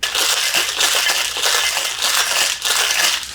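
Ice rattles and crunches inside a cocktail shaker while mixing a Blue Hawaii tiki drink, shaken hard in a fast, steady rhythm, loud and close with no talking.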